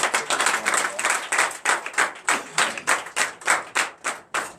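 Rhythmic, fairly close hand clapping from a church congregation at a Sunday service in Comè, Benin, beating in a steady repeated pattern with no talk over it.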